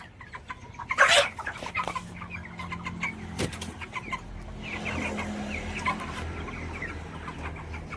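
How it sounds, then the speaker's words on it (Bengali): Broiler chickens cluck and squawk inside a poultry shed raised for sale, a steady chorus of overlapping calls with a louder burst near the start, fairly close. "মুরগির কন্ডিশনও আমি আপনাদেরকে দেখাচ্ছি যে কীরকম মুরগি রেডি হয়েছে দেখুন"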